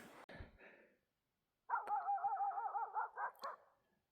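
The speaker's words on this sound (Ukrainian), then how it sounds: "Щось бродячі собаки мене погано вітають." Stray dogs bark: one sharp bark, then after a pause a long run of yelping, whining barks follows, fairly close and loud.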